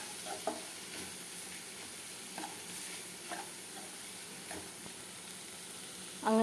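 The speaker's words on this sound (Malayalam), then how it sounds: "മസാലപ്പൊടികളെല്ലാം ചേർത്ത് കൊടുത്ത ശേഷം നന്നായിട്ടൊന്ന് വഴറ്റിയെടുക്കുക" Spice powders for soya keema masala are sautéed in a pan: a steady low sizzle under intermittent spoon-scraping strokes spaced about a second apart, ending with a louder clatter.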